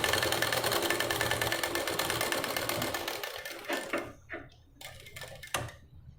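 A sewing machine stitches a boat-neck, princess-cut blouse, running fast and steadily for about four seconds before breaking into a few short separate bursts, with no talk.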